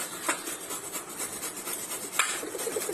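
Pointed gourds have their skins scraped, giving quiet, close rasping strokes with a couple of sharper scratches, soft and steady with no voices.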